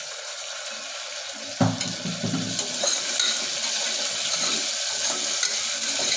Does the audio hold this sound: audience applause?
no